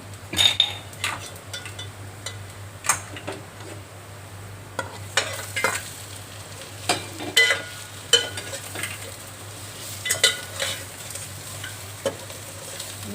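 A spoon scrapes and clinks in a pan while roasted eggs are stirred into spicy masala with chilli powder, with irregular taps and scrapes over a low steady sizzle.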